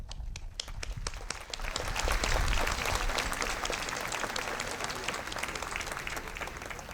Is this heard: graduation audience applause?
yes